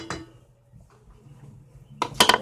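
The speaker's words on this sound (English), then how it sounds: "You also do want to stir that rhubarb a little bit" Rhubarb being stirred in a pan with a metal utensil: a soft clink at the start, quiet scraping, then a brighter cluster of clattering scrapes against the pan near the end.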